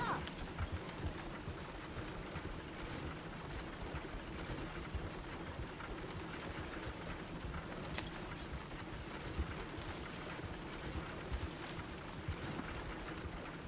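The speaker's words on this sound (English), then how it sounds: "Look where you want to go and the horse will follow." Horse hooves clip-clop steadily on a road while riding in Red Dead Redemption 2, a continuous rhythmic gait under a dense, noisy game soundscape.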